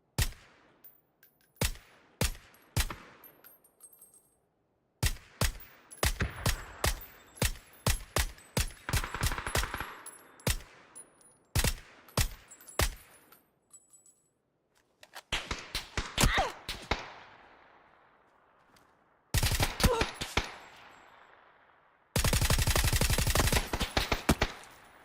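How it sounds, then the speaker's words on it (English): Full-auto M4 rifle fire in the video game PUBG, sharp rapid bursts of shots separated by short pauses, ending in a long sustained burst. "Full auto M4 fire"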